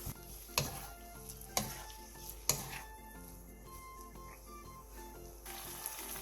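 Seasoned vegetables stirred in a frying pan for a Korean side dish, with a low sizzle under a few sharp utensil clacks against the pan and soft scraping.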